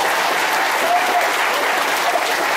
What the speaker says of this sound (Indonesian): tepuk tangan buat Putrias yang sudah menjadi ketua panitia di acara ini